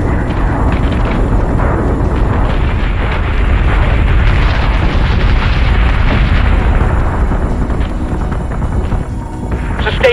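Warship batteries firing in the video game Battlestar Galactica Deadlock: a dense, continuous barrage of loud booms and explosions rumbling without pause throughout.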